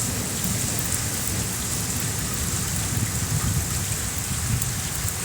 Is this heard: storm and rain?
yes